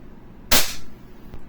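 One sharp, loud crack from a WE Glock 18c Gen 4 airsoft pistol firing a 0.20 gram BB, close by, with a quick decay and a faint tick shortly after.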